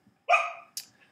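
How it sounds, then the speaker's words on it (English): A dog gives two short barks, the first a fuller bark and the second a sharper, higher yelp, fairly faint and slightly distant against otherwise quiet surroundings. "That's my dog, if you can hear him barking."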